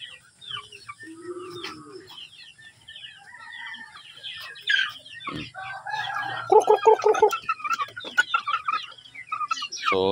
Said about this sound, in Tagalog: Ay, malaki na yung mga sisiw natin.